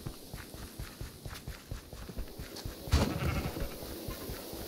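Sheep in the video game Minecraft Dungeons bleat faintly among soft footstep-like game sounds, with one louder bleat standing out about midway through.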